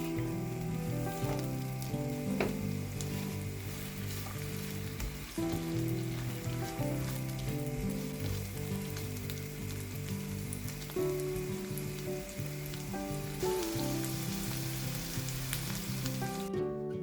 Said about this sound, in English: Sauté the red onion and shallot.